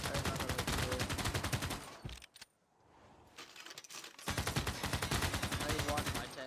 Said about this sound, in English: We're constantly under heavy fire.